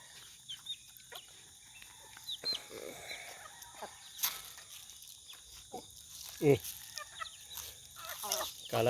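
Chickens, including a hen with seven chicks, cluck softly and intermittently at a rural feeding spot, short scattered calls over a low background hiss, with a few louder squawks toward the end.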